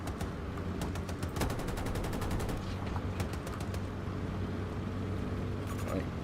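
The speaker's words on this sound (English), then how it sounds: "gunner better keep shooting" Sustained automatic gunfire from Battlefield 2042, a steady stream of rapid shots over a constant rumbling vehicle engine, loud and continuous throughout.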